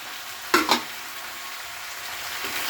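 Two chopped ripe red tomatoes drop into a pan frying with ginger and chili for a fish curry, giving two sharp close splashes followed by a steady low sizzle.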